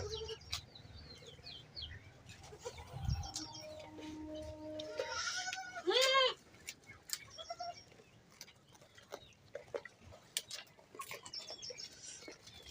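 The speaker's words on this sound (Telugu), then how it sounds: "ఇవి మా మేక పిల్లలు" Young goat kids bleat in a pen, several short close calls rising above a busy background of birds and faint farmyard noise.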